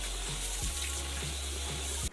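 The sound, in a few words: water running while washing face at sink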